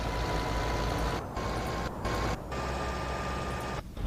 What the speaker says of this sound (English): this actually sounds like a horrible, horrible diesel engine